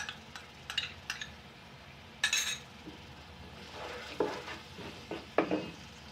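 Curd being stirred into browned onions and ginger garlic paste in a pan: soft sizzling under intermittent scraping and clinks of a spoon against the pot, fairly quiet and close.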